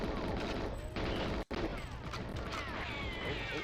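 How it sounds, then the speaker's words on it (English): Gunfire in GoldenEye 007 arrives as rapid shots with crashing impacts, cut by a brief drop to silence midway, then picking up again at fairly low loudness. "Oh, bullets incoming."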